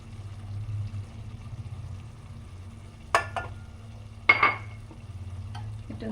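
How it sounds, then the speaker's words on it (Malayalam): Pepper chicken with ground spice powder is stirred in a pan: two sharp scraping stirs stand out over a low, steady sizzle and hum. "നമുക്ക് ഇളക്കി കൊടുക്കാം"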